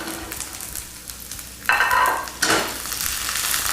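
Asparagus hits hot oil with garlic in a pan, bursting into loud sizzling frying that swells twice as it is added and tossed, then settles into a steady crackle.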